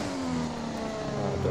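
Formula 1 race car engine from the F1 2020 game, a steady high-pitched drone with rising pitch as it accelerates, continuous and fairly loud with no talking.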